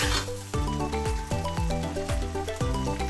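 Rice with turmeric powder being stirred in a hot pan for muri ghonto made with a fish head, giving a close sizzle and scraping under loud, steady background music with rhythmic beats.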